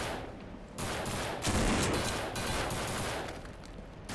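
Gunfire from the zombie shooter game No More Room in Hell on a Chinatown server with unlimited ammo. Repeated loud, close bursts of shots come in quick succession with no voices.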